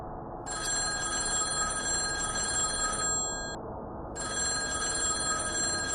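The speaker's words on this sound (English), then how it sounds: "The phone rang again." A telephone in a hotel front desk setting rings with a bright electronic trill in two long bursts separated by a short pause, loud and close over a faint low hum.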